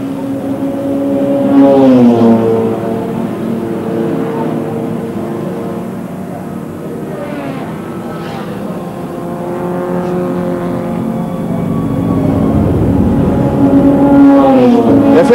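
Touring cars of the A1300 class lapping the Schleizer Dreieck road circuit in a 1989 race, engines droning continuously with rising and falling pitch as cars pass and are lapped, loud and steady without speech.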